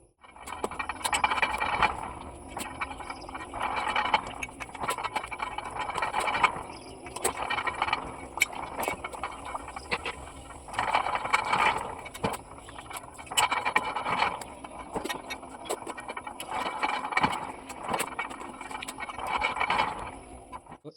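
A machine rolls a rubber sheet, giving a steady run of mechanical grinding and clanking that swells and fades in regular cycles every couple of seconds.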